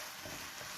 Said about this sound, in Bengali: ভালো করে চালটাকে আমি ভেজে নেব ঘিয়ের সাথে।